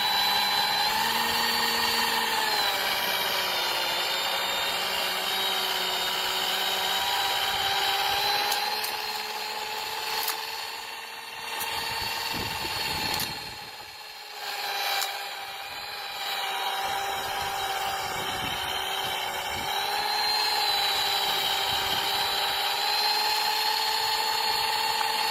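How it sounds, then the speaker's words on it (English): A tiny homemade remote-controlled snowblower runs with a steady, high motor whine, which sags and roughens for a few seconds in the middle before climbing back to its even pitch. "This person made himself a little tiny remote-controlled snowblower."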